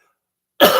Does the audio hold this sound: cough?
yes